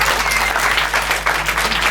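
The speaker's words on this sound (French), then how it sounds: "On peut les applaudir." An audience claps for improv performers at a Paris improvisation theatre festival, a full, steady burst of many hands close by, continuing without pause for the whole short moment.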